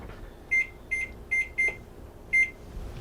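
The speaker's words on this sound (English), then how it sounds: "we'll put the timer on for 35 minutes" Kitchen oven timer being set for 35 minutes: five short, high electronic beeps in an uneven sequence over a faint background hum, with no voices.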